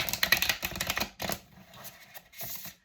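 Tarot cards shuffled close up in rapid riffling bursts, crisp papery clicks in two or three quick runs with short pauses between.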